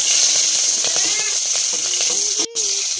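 Green chilies dropped into hot oil already holding cumin seeds, dried red chilies and bay leaves give a steady, broad sizzle that runs for the whole moment, with faint clinks mixed in.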